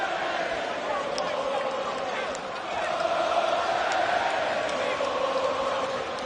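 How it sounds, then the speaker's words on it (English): A boxing arena crowd roars during a late round of a fight, a sustained wall of cheering and shouting that swells midway and stays loud, with a few sharp whoops and claps poking through. "And listen to this crowd once again."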